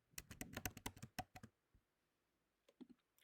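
A password is typed on a Mac keyboard as a quick burst of about a dozen crisp key clicks, followed after a pause by a few softer taps, close and quiet in a still room.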